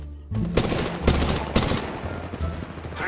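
Rapid automatic gunfire from a Spitfire and an R-301 Carbine in Apex Legends, loud dense bursts in quick succession with a few brief gaps, close and dominant, no speech.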